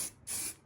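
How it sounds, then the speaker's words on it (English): A spray gun coats a BMW E36 328i subframe during a DIY refurb, giving two close, steady bursts of airy hiss split by a brief pause. "that's me over fucking killing it with the old spray painter"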